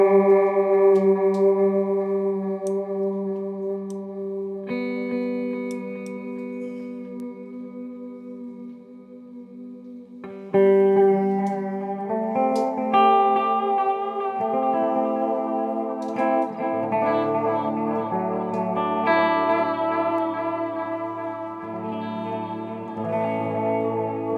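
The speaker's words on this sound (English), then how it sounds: "it'll sound more like a traditional, like kind of sine wave modulated delay" Sustained, shimmering guitar tones through an EarthQuaker Devices Disaster Transport delay pedal with a gently wobbling sine-wave modulated delay, notes ringing and repeating as chords change, no voices.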